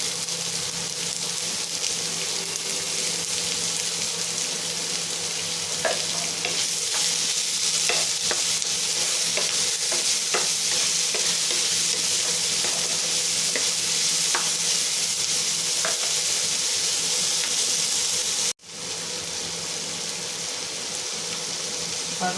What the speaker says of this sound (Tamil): வெங்காயம் நல்லா வதங்கிறதுக்கு கொஞ்சம் உப்பு போட்டுக்கலாம்